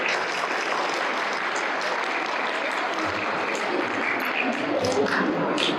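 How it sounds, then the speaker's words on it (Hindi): A crowd applauds loudly and steadily at a retirement event, dense continuous clapping from many hands with a voice faintly audible beneath. "सीमा दीदी और सुरेश जी के लिए आप जोर से तालियां बजाएं।"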